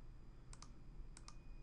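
Computer mouse clicks while working in Excel, two quick pairs of crisp, faint clicks in a quiet room.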